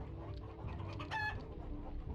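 A video game chicken clucks a few times over a steady low background hum, with a brief higher squawk near the middle.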